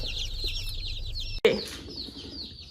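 Soft cheeping of newborn chicks and quail in shipping boxes fills the background, with a brief thump and rustle midway, no voices.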